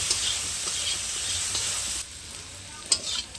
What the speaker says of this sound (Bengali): লবণ আর হলুদ দিয়ে ভেন্ডিটাকে আমি আলো ভেজে নেবো সুন্দর করে